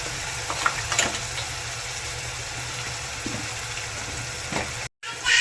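Crushed onion for pav bhaji fries in a pan with a loud steady sizzle and a few stirring scrapes, then the sound cuts out briefly before resuming.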